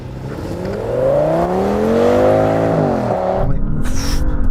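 Audi S8 cars in a drag race launch hard, one engine loudly revving up through rising gear pulls before a shift, then the note drops as the car pulls away, close and dominant with no talk.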